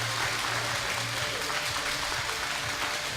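Spectators at a World Shooting Para Sport Championships mixed team rifle final give a steady wash of applause with some cheering, loud and continuous, over a low hum from the hall.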